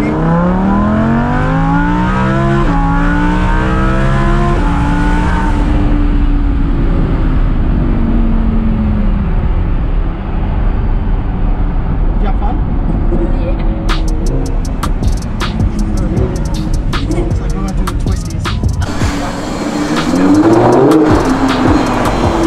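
A Lamborghini Huracan accelerates hard, its engine note rising and falling through several gear changes, loud and close from inside the car, with brief voices mixed in.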